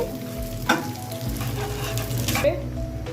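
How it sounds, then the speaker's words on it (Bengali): Cardamom, bay leaf and cinnamon frying in a pot while being stirred, a continuous close sizzle with repeated scraping strokes and occasional clinks of the spoon against the pot. "এলাচ এটা দিয়ে একটু নাড়াচাড়া করে যেন ফ্লেভারটা ভালো আসে জন্য একটু নাড়াচাড়া করে নিব"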